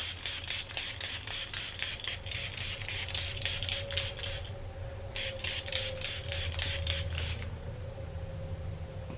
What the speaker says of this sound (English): So this is the Catrice Illuminating Prime and Fine Dewy Glow Fixing Spray.